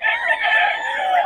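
A rooster crows loudly and nearby in one short, strained call.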